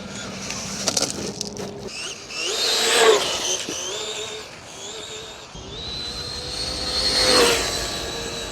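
High-pitched whine of a fast RC rally car at full throttle, pitch sweeping up in two loud rising passes, starting with sharp clicks and a brief pause between runs.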